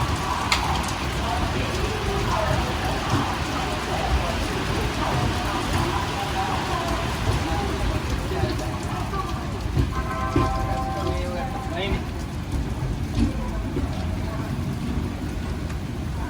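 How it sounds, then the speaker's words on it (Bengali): Heavy rain pours steadily outside a moving Howrah–Puri Shatabdi Express train near Kharagpur, a dense constant hiss with rumbling train noise beneath it. "বাইরে হচ্ছে মুষলধারে বৃষ্টি"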